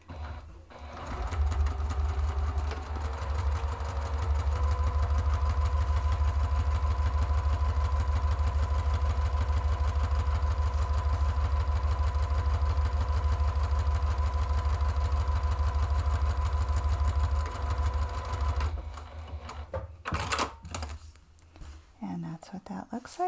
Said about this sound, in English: I'm just stitching straight across the base of the exterior only.